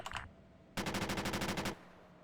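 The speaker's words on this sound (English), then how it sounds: "Gunrunner, are you able to do a bit of a strafe run on OP2?" A short burst of rapid automatic machine-gun fire from an aircraft strafing run in the military video game Arma 3, about a dozen evenly spaced shots in one sustained volley, loud and close.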